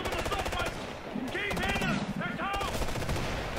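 Rapid automatic gunfire rattles in the shooter video game Ghost Recon Future Soldier. Bursts crackle steadily through the whole stretch, mixed with game effects and voice chatter.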